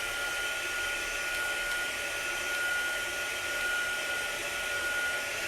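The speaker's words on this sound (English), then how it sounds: "now I'm screaming over the hair dryer and I turned it off" A hair dryer blows steadily on chalk paste drying over a transfer, a constant even whir with a thin high tone, running alone without pause.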